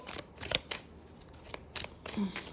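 Tarot cards are shuffled and rearranged up close, with several quick papery riffles and soft flicks in short irregular bursts.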